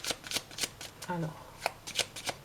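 Oracle cards being shuffled and cut by hand, with quick papery flicks and riffles in short bursts, close-up, and a brief voice murmuring in the middle.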